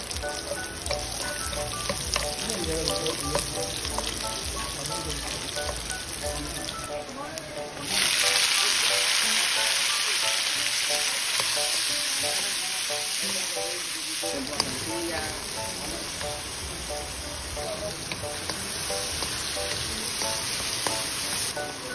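Garlic and onion sautéing in a pan, a steady close sizzle with scraping stir sounds; the frying grows louder and brighter partway through and keeps hissing continuously, with no one talking over it.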